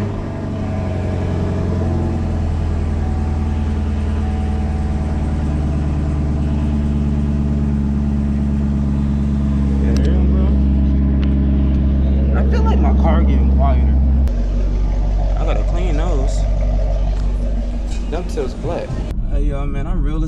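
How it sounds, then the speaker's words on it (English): A car engine cold-starting after sitting unused for two days, then settling into a loud, steady close-up idle, with a brief revving surge midway and a person talking over it toward the end. "We got some cold start action, baby."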